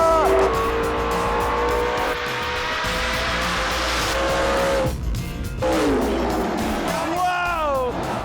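A Honda Civic launches and accelerates hard down the strip during four-wide drag racing at zMax Dragway, with engines roaring, a rising pitch and brief tire squeal; a commentator talks loudly over the racing.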